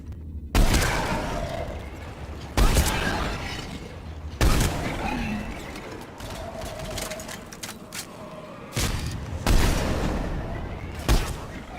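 Bursts of gunfire from the Mass Effect video game: repeated loud volleys of shots and blasts, some separated by short gaps, over a constant battle background, with a voice talking at times.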